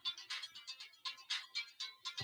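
A mobile phone ringtone plays a repeating electronic melody in short pulsed bursts, fairly faint and alone.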